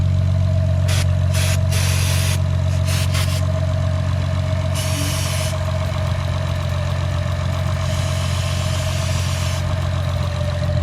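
An Acura TL engine with a cold air intake idles steadily with a low, constant hum and drone, plus intermittent hissing bursts of brake cleaner spray over the top.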